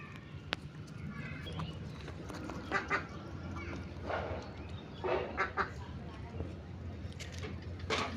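Domestic ducks resting under a tree give scattered quacks, a few clustered bursts over steady outdoor background noise, with faint voices now and then.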